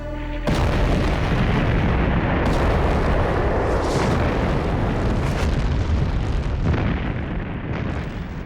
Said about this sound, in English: there came a salvo of whiz-bangs